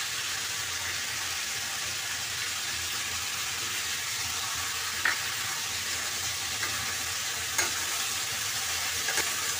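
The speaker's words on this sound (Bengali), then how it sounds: "সবজিটা কিছুক্ষণ ভেজে নেব।" Vegetables for a Chinese-style vegetable dish frying in a pan, a steady close sizzle with occasional stirring scrapes and clinks throughout, no talking.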